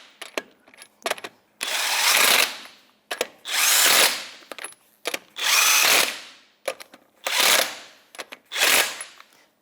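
An impact-style power tool with a 19mm socket snugs wheel lug nuts on a 2008-2012 Jeep Liberty in a crisscross pattern. It gives five loud, close, rising whirring bursts, each followed by quieter clicks and handling noises.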